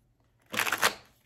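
Tarot cards get one quick shuffle, a brief, soft papery riffle lasting about half a second in an otherwise quiet room.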